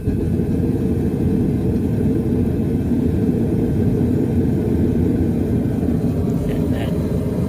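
A gas forge burner roars steadily after the gas is turned up, a dense continuous low rumble that stays loud and unbroken throughout.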